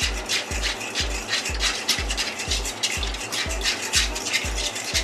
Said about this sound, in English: And we just mix this in.